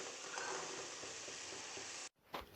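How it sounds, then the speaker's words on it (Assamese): Raw green peas frying in a pan alongside tomato and potato give a steady, close sizzle that runs for about two seconds, then cuts off abruptly before a brief faint clatter. "মটৰখিনি দি মই এইখিনি ধুনীয়াকৈ ভাজি ললো"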